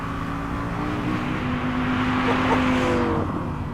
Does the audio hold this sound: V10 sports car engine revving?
yes